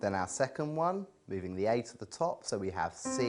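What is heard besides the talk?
No everyday noise stands out behind the speech.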